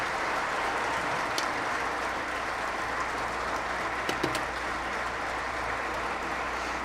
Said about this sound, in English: a strong round of applause